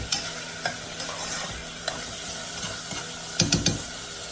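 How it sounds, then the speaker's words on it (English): Chicken frying in a home kitchen pan sizzles steadily at low volume, with occasional spoon scrapes and clinks from stirring and a few louder taps near the end. "See how that's sizzling up something?"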